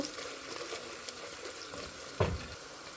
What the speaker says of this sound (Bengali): দিয়ে দিলাম রসুন থেকে নেওয়া রসুনগুলো এবার একটু নেড়ে চেড়ে আমি সব মশলাগুলো আস্তে আস্তে দিয়ে দিব